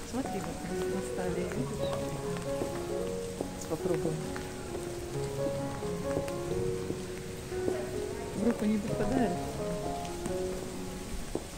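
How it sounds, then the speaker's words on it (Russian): Hail falls in late November in Ansbach, Bavaria, a dense, steady pattering that runs throughout under people talking. "В конце ноября град пошел"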